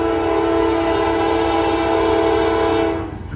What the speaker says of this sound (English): got a Norfolk Southern train coming